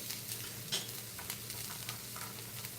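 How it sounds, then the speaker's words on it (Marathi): Masala and grated coconut roasting in a pan for a halwa fish curry, a soft steady sizzle with scraping stirs of a spoon, close and without talk. "अगोदर असं चांगला खरपूस भाजला जातो मसाला बघा"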